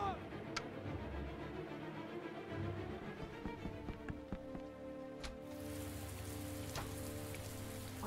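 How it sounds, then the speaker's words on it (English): Steady rain falls outside in the video game Heavy Rain, a dense patter on surfaces heard throughout with faint low rumbles and occasional knocks underneath. "It's raining out."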